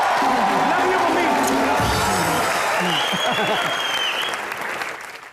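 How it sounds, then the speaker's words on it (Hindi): Studio audience on a Hindi TV comedy talk show bursts into loud, sustained applause with some cheering, filling the whole stretch and tapering slightly at the end while a voice speaks over it. "मेरी माँ के लिए एक बार जोरदार तालियां।"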